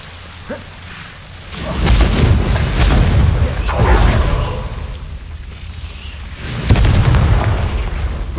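A Confringo spell explodes in the dark hidden herbology corridor of Hogwarts Legacy, where Devil's Snare grows: several rumbling, crackling bursts roll through like thunder, loud and close, with a final sharp blast near the end.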